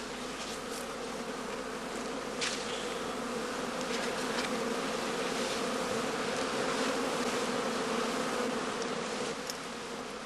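A steady, dense hum of many bees buzzing continuously at close range at a skep hive, with occasional individual bees zipping past louder.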